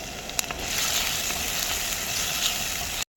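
Chopped green chilies sizzling and crackling in hot oil in a pan while cooking chicken manchuria, a steady close frying hiss with small pops, cut off briefly near the end.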